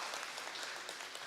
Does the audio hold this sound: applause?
yes